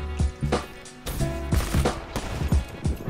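Rapid bursts of gunfire in Black Ops 3, loud and close, with sharp repeated shots spaced unevenly across the stretch alongside game sounds.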